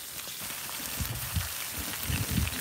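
Bacon sizzles on a Blackstone flat top griddle with a steady, close hiss and crackle and small irregular pops, and no talking.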